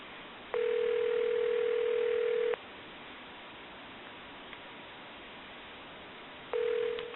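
Ringback tone sounds on the line of a repaired GE 25881EC telephone: a steady two-second ring, a four-second gap over faint line hiss, then the next ring begins, with no voices.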